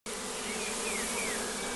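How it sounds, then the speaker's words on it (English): A large swarm of honeybees flies in overhead, a dense, steady buzzing hum that fills the air without pause, fairly loud and close, with no voices. "This is another large swarm."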